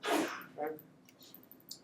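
A single sharp sneeze bursts out at the start, loud and close, followed by a softer breathy after-sound and a brief spoken word in a quiet room.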